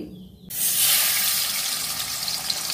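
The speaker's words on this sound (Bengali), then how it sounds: "এই তেলে এবার মাছগুলো একটা একটা করে ভেজে তুলি।" Rohu fish pieces dropped into hot oil in a wok set off a sudden loud hiss that keeps sizzling steadily close by.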